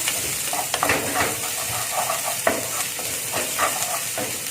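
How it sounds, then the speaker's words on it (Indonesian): Stir-frying in a pan gives a steady close sizzle and hiss, with repeated scraping and clinking strokes of the utensil across the surface throughout. "Kita tumis sebentar."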